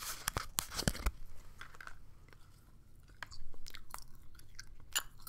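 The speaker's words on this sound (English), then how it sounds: "let's pop some gum in" Gum is chewed close to the mic, with crisp smacking and wet snapping bursts at first, then quieter irregular chews and clicks.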